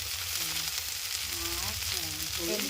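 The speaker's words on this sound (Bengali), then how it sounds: "ভিন্ডি ভাজা বানাচ্ছি আমরা। ভিন্ডি ভাজা পেঁয়াজ দিয়ে।" Okra frying with onions in oil makes a dense, continuous close-up sizzle, with a faint voice murmuring underneath.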